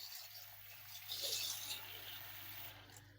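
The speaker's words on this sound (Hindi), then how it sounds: "इसको पानी से इस बॉल को भर लेते हैं।" Water runs steadily into a bowl for washing strawberries, a soft continuous splashing rush that swells briefly midway and stays fairly quiet, with no talk.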